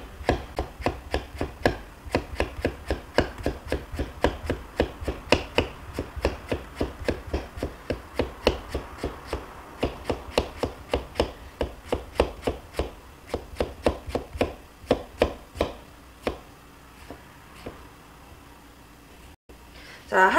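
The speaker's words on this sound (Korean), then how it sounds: "그다음에 한번 찍어 썰기 해볼게요" A knife chop-slices boiled octopus on a cutting board for a Japanese dish, giving a long, fast, evenly spaced run of crisp taps that slows and spaces out near the end, with no talking.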